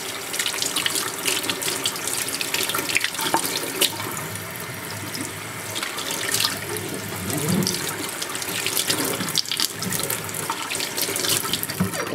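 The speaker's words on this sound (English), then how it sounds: "Let me rinse my hand." A hand being rinsed under a running kitchen tap, with a steady, loud stream of water splashing into the sink for the whole stretch and no voices.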